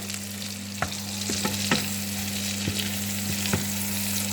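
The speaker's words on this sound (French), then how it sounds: "que je termine de faire sauter mon foie" Beef liver sautés in a pan with a steady close sizzle and a few scattered pops and utensil clicks over a low constant hum.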